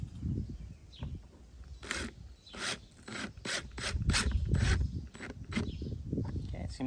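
Stainless steel number 10 one-inch screw with a washer being driven into an RV roof, a close series of rasping, ratcheting turns in quick bursts over several seconds.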